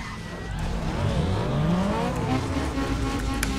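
Racing cars in Need for Speed: Underground 2, engines droning loudly and continuously with rising and falling revs, tires squealing and other cars whooshing past close by.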